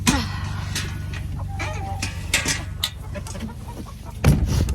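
Several chickens cluck and squawk close by during feeding time in freezing, windy Arctic-like cold, their calls scattered and irregular over a steady low background, with a louder burst near the end.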